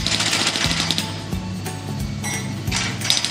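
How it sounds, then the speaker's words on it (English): A digger's hydraulic breaker hammers pavement at a roadworks site, a loud, close, continuous rapid pounding with a steady engine drone beneath and metallic clatter, running throughout with no voices. "The clever digger can spin all the way around and hammer on the other side too."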